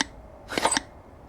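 The carburetor on a 1974 Honda CB360 snaps back on a stronger return spring in one brief sharp mechanical click, with faint clatter before and after it against a quiet background.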